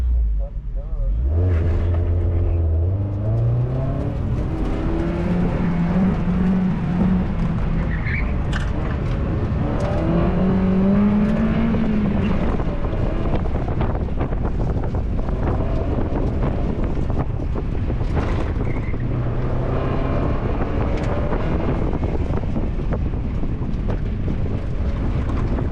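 NB Mazda Miata on an autocross run at Shasta Speedway, engine droning steadily with rising and falling revs through the course, heavy wind buffeting the microphone and a voice talking over it throughout.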